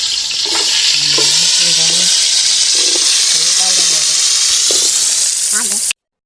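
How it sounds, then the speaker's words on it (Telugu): Chopped onions and green chillies frying in oil for village-style chicken biryani, a steady loud sizzle and hiss throughout under a woman's speech, cutting off abruptly at the end. "ఉల్లిపాయలన్నీ బ్రౌన్ కలర్ లో వచ్చేదాకా వేగించుకోవాలి"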